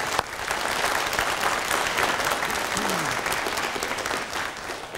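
Studio audience applause on a 1971 Norwegian television talk show, a dense, steady wash of many hands clapping that holds at an even, fairly loud level for about five seconds with no speech over it.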